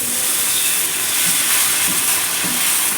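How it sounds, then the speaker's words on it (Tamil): Kara dosa batter sizzles steadily on a hot pan, a broad continuous hiss at moderate level with faint soft crackles underneath and no talking. "போய் தோசை ஊற்றலாம்."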